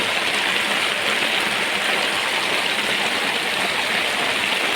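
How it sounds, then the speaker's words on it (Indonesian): Heavy tropical rain pours down on a fishing boat during a storm, a dense, loud and unbroken roar of water drumming close by, with no voices. "Hujan, guys."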